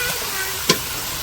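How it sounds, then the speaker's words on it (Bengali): Potatoes frying with onion and chili in a pan, a strong continuous sizzle close by with a single sharp stirring clack partway through. "এই পেঁয়াজ আর মরিচের মধ্যে আলুগুলা দিয়ে আবার কষাই নেবো"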